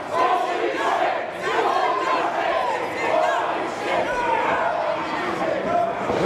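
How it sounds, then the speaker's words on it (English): A crowd at an independent wrestling show cheers and yells steadily around the ring, a dense roar of voices throughout. "crowd showing their appreciation."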